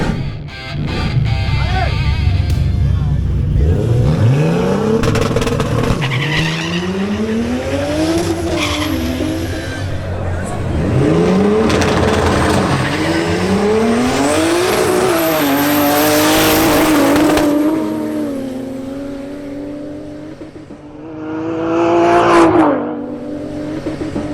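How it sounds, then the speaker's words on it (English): Two BMW 325i E36 cars launching in a drag race, engines revving and climbing through repeated upshifts with tire squeal, loud and close, joined by voice commentary throughout. "Now, two BMW 325i E36s face off, driven by Leonardo Lillo and Jose Fernando Gomez."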